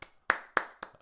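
Three sharp, separate hand claps close to the microphone, spaced about a quarter second apart, with the last slightly softer.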